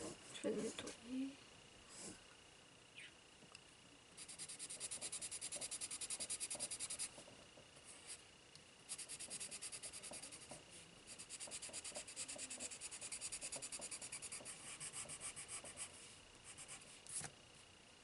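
A colorless blender pencil rubs on paper while coloring a bird and flowers, with soft close scratchy strokes in uneven bursts and short pauses between them.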